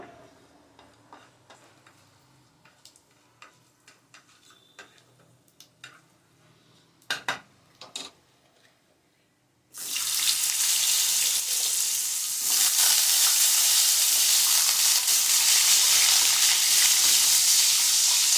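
Potatoes hit hot oil tempered with five-spice and dried red chillies, bursting into a loud, continuous sizzle after a stretch of quiet spice crackles and faint pan clicks.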